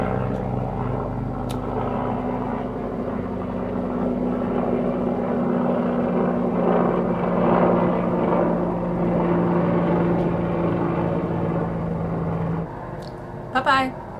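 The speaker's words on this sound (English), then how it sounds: "I'll just wait for this bloody helicopter." A helicopter's low, steady rotor drone fills the air for over ten seconds, droning loudly and continuously overhead before cutting off near the end.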